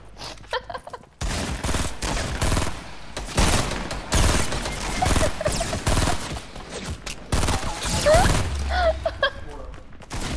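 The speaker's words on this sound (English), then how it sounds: "Start shooting." Rapid bursts of gunfire in a Fortnite match, dense volleys and single shots running nearly continuously after a brief quiet opening, loud and close, with excited voices talking over the shooting.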